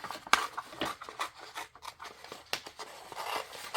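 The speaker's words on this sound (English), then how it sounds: "I'm going to cut them out" Paper being cut out with scissors for a mixed media collage, heard as quiet, close snips and rustles in an uneven rhythm with no talking.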